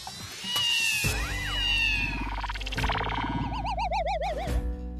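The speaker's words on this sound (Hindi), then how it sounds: "अंदर दो दो बिल्लियां लगता है," Two cats meow and yowl while fighting indoors, loud close caterwauling with rising and wavering wails, several overlapping cries building into a rapid warbling yowl near the end.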